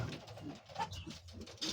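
Local domestic pigeons coo softly in a short, quiet stretch, with low murmuring calls close by.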